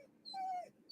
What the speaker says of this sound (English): Excuse the dog in the background.